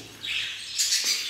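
Colony of budgerigars feeding together, with short bright chirps and squawks in two quick bursts, fairly close and alone against quiet room tone.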